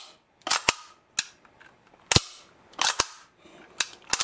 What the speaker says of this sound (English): So put it on semi, pull a trigger,